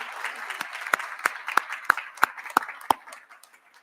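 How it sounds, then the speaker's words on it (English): Audience applause at a Holocaust remembrance gathering for a solo music performer, with one nearby clapper standing out in a slow, even beat of about eight claps over a softer crowd. "Can we get a warm round of applause for Athena Strickland for the solo music that she was performing?"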